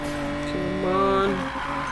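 A car drifting in Need for Speed Payback, its steady engine drone joined by a rising, sustained tire squeal near the middle of a short stretch, with faint speech underneath.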